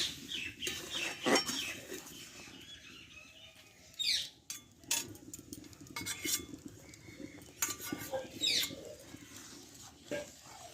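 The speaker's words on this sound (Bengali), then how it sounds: "বারে বারে এভাবে ইয়ে নাড়তে থাকতে হবে নাহলে কি হবে সাইডে দুধটা লেগে যাবে" A spoon stirs rice in thick coconut milk in a metal pot for a Bengali payesh, with repeated scraping strokes and clinks against the pot's sides, coming in irregular bursts close by.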